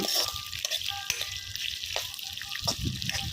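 Onions and curry leaves fry in hot oil in a pot over a husk-fired stove while a yellow cucumber and tomato curry is being made, giving a steady close sizzle with soft stirring clatter and no talk.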